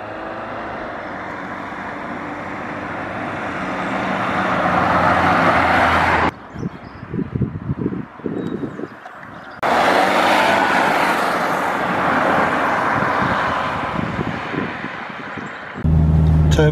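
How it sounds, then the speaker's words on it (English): A car engine with its turbocharger idles and revs after an intake decarbonizing treatment, running as a steady loud rumble with a brief drop partway through and then resuming, with no talk. "Turbocharger seems quieter."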